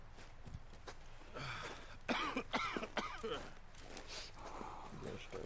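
Arthur Morgan coughs in the video game Red Dead Redemption 2, a short cluster of harsh, rasping coughs in the middle, amid outdoor ambience and faint hoof sounds, with voices nearby.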